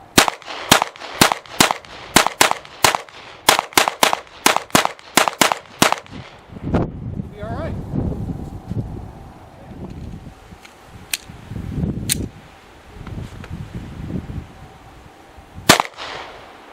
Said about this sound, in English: we're going to take it to the range and we're going to shoot it